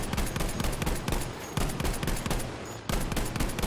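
Rapid semi-automatic Selbstlader rifle gunfire in Battlefield V, a loud sustained string of sharp cracks in quick rhythm with brief pauses between bursts.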